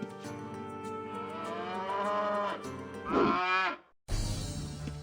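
A cow in the Ultima Online game moos in a long, drawn-out, fairly close call, followed by a shorter second low, unaccompanied by speech.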